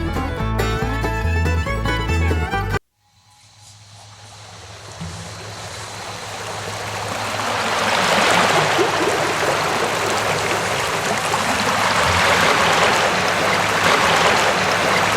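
Mountain river flowing on the way to the Kedarkantha trek near Sankari, a broad steady rushing roar of water that builds after a burst of music cuts out, close and loud.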